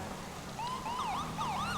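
A FiveM police cruiser siren, from GTA V roleplay, cuts in after a brief low rumble and climbs into quick repeating up-and-down yelps, loud and continuous with no talking.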